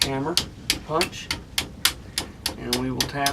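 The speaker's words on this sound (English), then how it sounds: "and we will tap this out" Steady, fairly close metallic taps of a hammer striking a punch to drive a pin out of an AK47, about a dozen evenly spaced hits, with someone talking in between.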